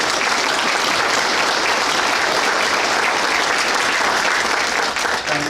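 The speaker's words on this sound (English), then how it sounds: "give everyone a round of applause" An audience applauds steadily at a Patriot Day service in 2018, a dense, continuous wash of clapping that stays loud and even throughout with no voices over it.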